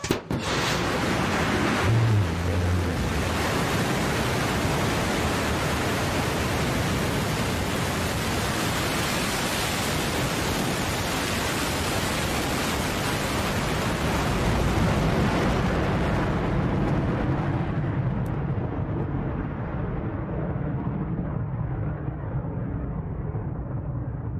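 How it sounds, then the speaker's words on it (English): A Blue Origin New Shepard rocket engine roaring at launch, a loud, dense broadband rumble that holds steady for most of the span before thinning and fading as the vehicle climbs away. "Command engine start."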